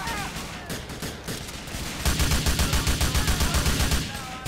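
Rapid bursts of automatic gunfire from a shootout in the video game GTA 4, starting with scattered shots and building into a loud, sustained run of evenly spaced rounds.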